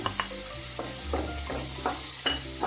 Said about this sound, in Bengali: এখন আমি আদা রসুন কুচিটা দিয়ে দিচ্ছি